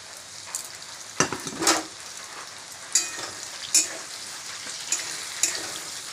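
Potatoes and pointed gourd fry in a pan with ground spice paste, giving a steady close sizzle broken by several sharp stirring scrapes and clinks.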